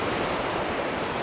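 Sea waves wash along the shore at Barangay Bongbong, Pantukan, Davao de Oro, in the morning: a continuous, fairly loud roar of surf with some wind buffeting and no voices.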